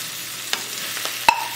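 Mushroom is added to a pot and stirred, giving a soft sizzle under a few scraping strokes and a sharp metallic clink near the end.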